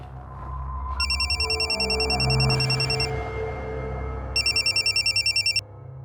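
An electronic phone ring trills in repeated bursts, two separate spells of ringing over low background noise and movement.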